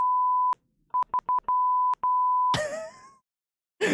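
A run of soundboard electronic beeps at one steady pitch, some long and some short and rapid, then a brief burst of a distorted, warbling voice effect.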